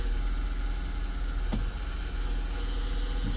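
A car whose transmission is reported to be slipping runs in drive, giving a steady, pump-like mechanical hum and whine at moderate level, with one brief click midway and no speech.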